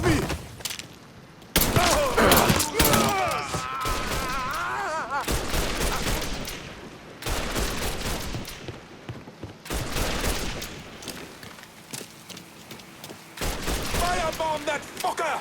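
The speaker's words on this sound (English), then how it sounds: "He's shooting the shit out of me!" Heavy gunfire in the open-world crime game Mafia III, loud bursts and volleys coming in repeated clusters with brief lulls, mixed with shouting voices.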